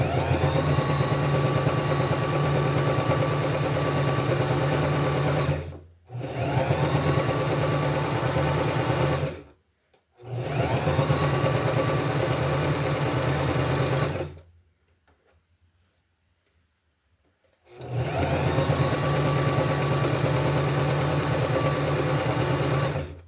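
A sewing machine stitches in steady, fast whirring runs of several seconds each, broken by short pauses and one longer silence before the stitching resumes, close and unaccompanied.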